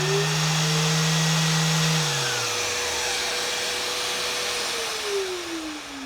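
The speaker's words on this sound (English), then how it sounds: "as soon as I turn on the Festool 3, basically the HEPA filter, vacuum, dust extractor turns on as well" A Festool HEPA dust extractor vacuum runs loudly and steadily with a sander in a woodworking shop, its whine dropping in pitch as the tool winds down.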